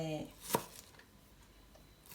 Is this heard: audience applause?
no